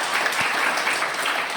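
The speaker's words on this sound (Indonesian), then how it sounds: "berikan tepuk tangan" Brief, dense applause from a classroom audience after a student presentation, steady clapping at moderate distance with no voices over it.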